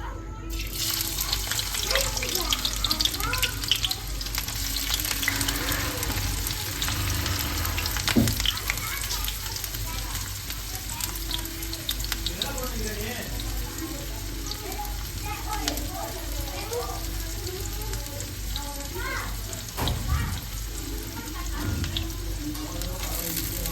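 Onions fry in a pan for a mushroom egg masala, a continuous broadband sizzle with occasional clinks and a few voices murmuring in the background.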